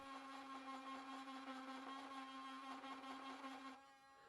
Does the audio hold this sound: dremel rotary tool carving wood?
yes